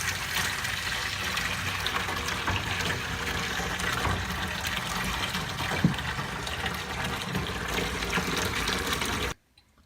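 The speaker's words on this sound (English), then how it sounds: "now it's time to rinse off the cage with some water" Water pours and splashes while rinsing out a hamster cage with soap, a steady loud gushing and trickling that runs continuously before stopping abruptly at the end.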